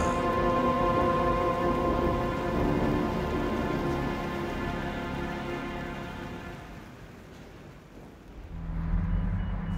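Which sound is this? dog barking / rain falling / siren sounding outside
rain falling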